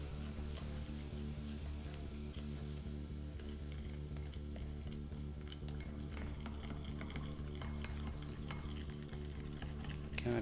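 Steady scraping stir of a homemade cymbal-cleaning paste being mixed from two ingredients in equal amounts, a continuous close, fairly quiet swirling with small clicks of the utensil against the container.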